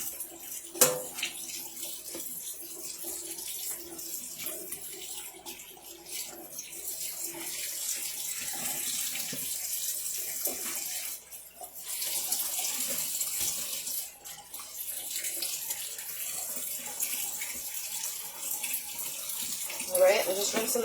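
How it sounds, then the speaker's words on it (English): Cold tap water runs steadily into a kitchen sink while raw chicken is rinsed under it, a continuous close splashing wash with slight changes as the stream hits the meat. "I'm just rinsing the chicken with cold water"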